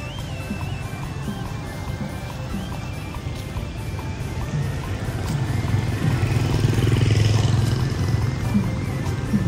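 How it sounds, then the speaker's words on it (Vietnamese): Motorbikes ridden by local people heading to a Khmer pagoda for a lamp-offering festival in Tra Vinh, a steady engine drone that swells louder midway, close by and with no talk. "Thì cũng có một số bà con cũng đi xe máy nha cô chú anh chị bạn."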